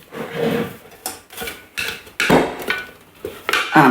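A spatula scrapes around the inside of a Thermomix bowl holding mushroom risotto, a series of close, uneven scrapes and knocks that come in short bursts, with no talk.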